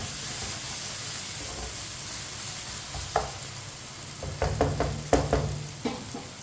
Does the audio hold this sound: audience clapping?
no